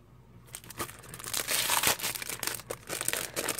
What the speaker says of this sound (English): I know you guys can't hear me over that paper